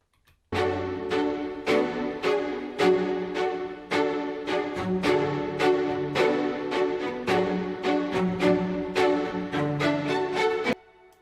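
Orchestral Tools SINE Factory sampled strings play a driving, rhythmic passage of short accented chords in a steady pulse, loud and full, ending abruptly.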